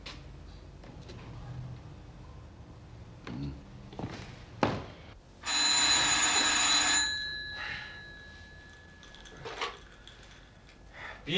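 A telephone rings once while a call is placed, a loud bright electric bell lasting about a second and a half, set among scattered knocks and handling thuds in a quiet room.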